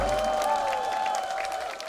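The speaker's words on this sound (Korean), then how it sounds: "멋진 무대를 선사해 주신 장기현 씨에게 뜨거운 박수 부탁드리겠습니다" Studio audience applause after a singer's stage performance on a televised singing class show, a steady wash of clapping with a faint sustained tone running beneath it.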